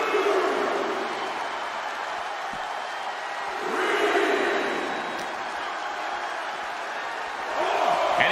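Arena crowd noise from a WWE 2K24 SmackDown wrestling match, a steady roar that swells twice as fans get involved, running under continuous play-by-play commentary.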